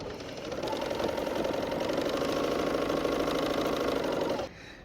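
A serger sewing machine runs steadily for several seconds, stitching along a quilt edge with a fast, even mechanical whir and rattle, then stops abruptly near the end.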